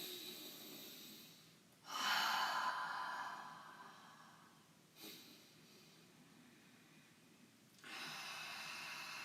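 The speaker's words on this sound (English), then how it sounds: "you want to be breathing in through your nose, out through the mouth" Slow, deep breathing during a guided meditation, air drawn in through the nose and let out through the mouth, with a few long, soft, airy breaths separated by quiet pauses and no talking.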